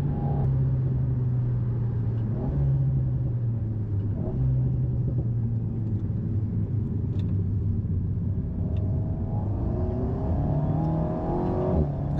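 An Alpine A110 Légende sports car accelerates, heard from inside as a steady engine rumble and whir that climbs through rising pitch sweeps toward the end, with no talking.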